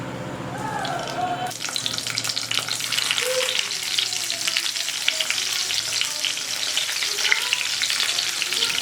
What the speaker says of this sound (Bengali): আমি মিডিয়াম ফ্লেমে বেগুনগুলোকে ভাজা করে নিচ্ছি।